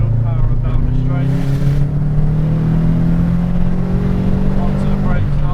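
A Subaru Impreza WRX STI accelerates hard down a track straight, its engine a loud, steady drone rising in pitch as it pulls, heard close from inside the car with a voice talking over it.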